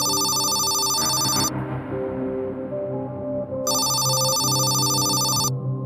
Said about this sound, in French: le téléphone du commissaire Blanchard se met à